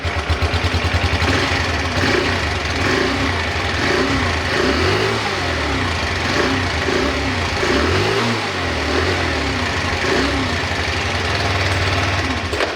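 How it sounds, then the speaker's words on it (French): A small moped engine with its old exhaust pipe runs close by, buzzing loudly with a rough, rattly exhaust note and occasional revs rising and falling. "ça c'est le bruit de l'ancien pot"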